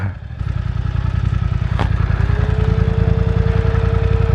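BMW F900 R motorcycle being ridden, its engine giving a loud, steady throbbing drone close by with a brief sharp click partway through and a rising whine in the second half.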